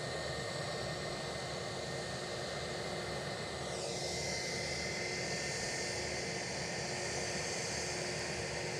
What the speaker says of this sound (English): Next inbound is also British Airways, a 321neo, the inbound aircraft.